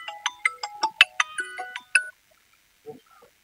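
A mobile phone ringtone plays a quick run of bright melodic beeps for about two seconds, then cuts off, leaving near silence with a faint stray sound.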